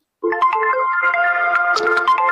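A phone ringtone starts abruptly and plays loud and close, a bright electronic melody of quick, stepping tones that runs without a pause or any voices over it.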